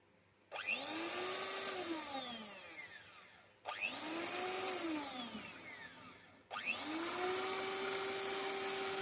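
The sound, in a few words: electric blender mixing coconut milk and sugar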